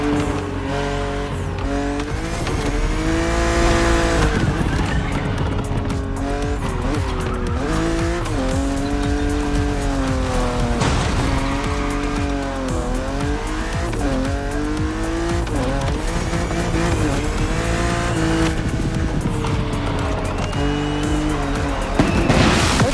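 A car driven in The Crew Motorfest, its engine revving and shifting through gears in a continuous loud drone, with tires squealing and skidding through corners.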